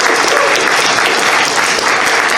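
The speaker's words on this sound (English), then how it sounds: "Everybody clap that" A crowd at a closing ceremony claps loudly and continuously, a thick even wash of many hands throughout with no one speaking.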